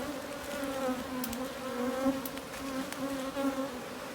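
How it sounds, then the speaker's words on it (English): A steady, dense buzz of many honey bees shaken off a hive frame close by, continuous and droning with no voices. "you can just give a shake to get all the bees off."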